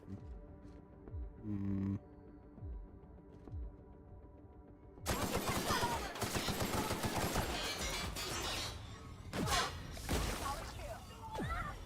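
Guards fire guns in The Outer Worlds, a sharp burst of gunshots and impacts that breaks out midway and keeps crackling, loud and close, after a quieter stretch with a low hum and a voice talking.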